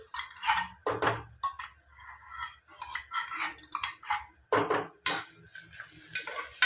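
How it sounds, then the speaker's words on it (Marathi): Ginger-garlic paste frying with browned onion for chicken gravy, stirred with a metal spatula: rapid, close clattering strokes against the pan in an uneven rhythm over a low sizzle. "कांदा थोडासा ब्राऊन झाल्यानंतर त्यामध्ये आलं लसूण पेस्ट टाकते"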